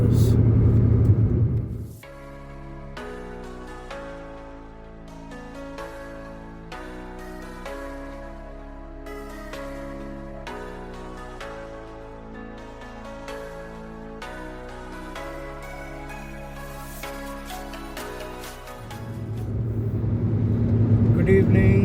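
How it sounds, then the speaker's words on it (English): A car on the highway from Vellore to Hyderabad gives a loud, close road rumble at the start and end, with music playing over a quieter stretch in the middle. "We have a lot more to be driving over the next 6 to 7 hours."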